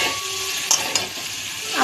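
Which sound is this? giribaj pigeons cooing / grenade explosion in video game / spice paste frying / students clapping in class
spice paste frying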